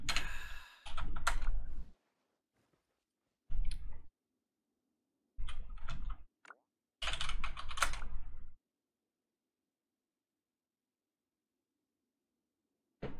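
Typing on a computer keyboard, close and clear, coming in several quick bursts of rapid key clicks separated by silent pauses.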